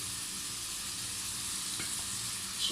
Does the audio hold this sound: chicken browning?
yes